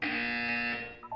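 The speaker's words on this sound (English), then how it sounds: "You will hear a buzzer. When you hear the buzzer, look down at the floor." A harsh, steady buzzer from The Turing Test video game blares loudly for about a second and then cuts off, followed by a couple of faint short tones.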